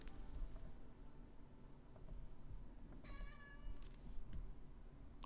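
A cat meows several times in drawn-out, yelling calls over steady low background hum, fairly close, with no talking.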